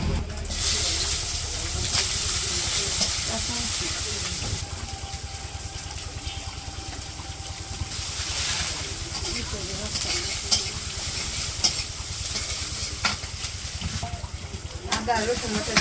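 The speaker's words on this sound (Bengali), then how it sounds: "এবার হচ্ছে তখন মশলা কষানো," Spice paste fries in hot oil in a village home kitchen, giving a steady close sizzle and hiss throughout, broken by occasional stirring scrapes and clinks.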